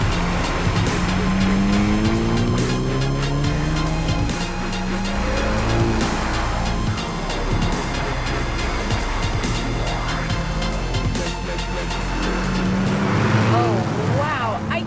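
A car fitted with newly installed Bilstein shocks is driven hard on winding roads, its engine revving and rising in pitch through gears with brief tire squeals, close and loud under a person talking.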